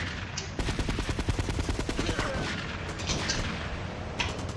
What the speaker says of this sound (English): it's not like one of the Forellis has a shotgun, because I hear it.